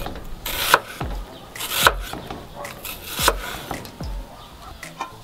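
A knife thuds repeatedly against a cutting board, slicing onion into half rings 6-7 mm thick, in an irregular rhythm, each crisp chop close and distinct, with faint rustling between strikes.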